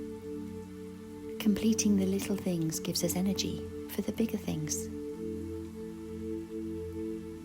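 Soft steady rain patters on a window as a constant gentle backdrop, while a calm voice speaks over it for part of the time.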